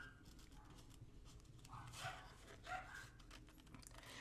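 Dogs barking somewhere in the neighborhood, distant and faint, with a couple of short barks standing out against steady background noise.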